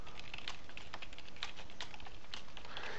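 Rapid computer keyboard typing with a steady run of crisp key clicks and no pauses, close and clear throughout.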